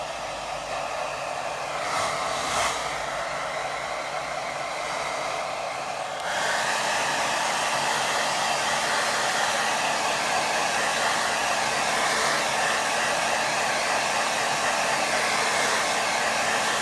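A hair dryer blows steadily and close across paper for a watercolour painting, its airflow roaring continuously at full power and growing slightly stronger partway through.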